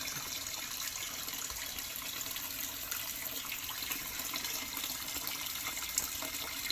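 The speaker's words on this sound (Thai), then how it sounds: "ทดสอบเปิดเครื่อง สกิมเมอร์ตัวใหม่นะครับ น้ำมวนแรงดูดแรงครับ" A new homemade pond skimmer runs steadily, water swirling and sucking with a constant rushing hiss, moderately close and even throughout.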